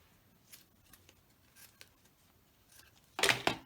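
Scissors cutting paper for a handmade Christmas card, a few faint snips followed by a louder, closer cutting burst near the end, alone without talk.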